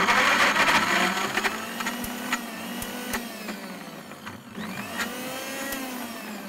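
A blender pureeing broccoli, a steady whirring motor whose pitch drifts as the load shifts, with faint clicks and knocks throughout.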